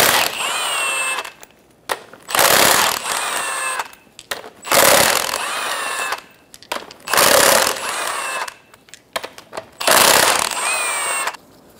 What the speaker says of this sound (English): Using a 19 millimeter socket, remove the five lug nuts.